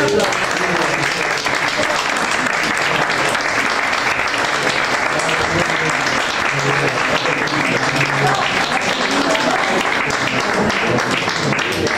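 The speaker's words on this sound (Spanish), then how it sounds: "Un aplauso, un aplauso." Sustained applause from an audience at a poetry reading night, dense steady clapping filling the whole stretch at an even loudness with no break.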